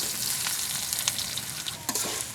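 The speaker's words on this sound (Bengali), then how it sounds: "তেলের সঙ্গে কাঁচা পেঁয়াজ সুন্দরভাবে মেখে নিচ্ছি বা ভেজে নিচ্ছি" Raw onion frying in hot mustard oil for okra bhaji, a steady dense sizzle with faint stirring scrapes and small pops throughout, close and alone.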